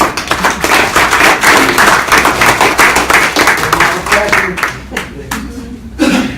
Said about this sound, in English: But with that, Travis Bott, please give him a round of applause.